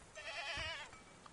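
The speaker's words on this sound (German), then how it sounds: "Die Ziege verfolgt mich." A goat in the Mundaun game lets out a single short, wavering bleat, fairly faint, over quiet background.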